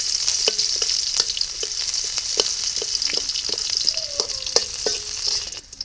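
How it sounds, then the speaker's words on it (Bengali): Chopped onions hit hot oil in a wok, crackling and sizzling steadily up close as a spatula clacks and scrapes repeatedly while they are tossed. "এবারে পেঁয়াজ কুচিগুলো দিলাম, দিয়ে একটু নাড়াচাড়া করে"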